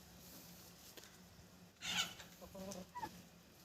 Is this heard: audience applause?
no